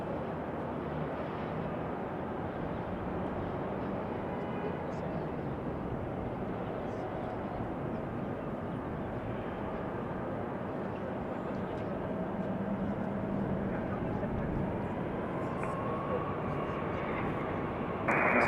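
A Boeing 737-800 airliner arriving at Raleigh-Durham airport, a continuous broad roar of jet engines that holds steady and swells slightly toward the end, loud and sustained.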